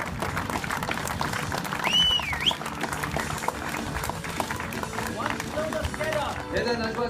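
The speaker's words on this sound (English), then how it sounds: "Round of applause." Crowd applause at the Red Bull Air Race World Championship in Abu Dhabi, a steady mass of clapping and cheering heard throughout, with a voice speaking over it.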